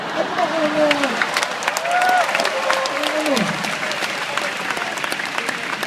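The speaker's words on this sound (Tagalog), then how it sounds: "Palakpak kayo ng palakpak, nagagalit na nga ako eh." Audience at a large Catholic gathering applauding during a cardinal's homily, sustained dense clapping with some crowd voices and a voice talking over it.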